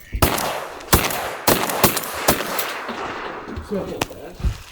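Shotgun blasts fired at a mallard during a duck hunt ring out sharply, about seven loud reports spaced irregularly across the span, with outdoor ambience between them.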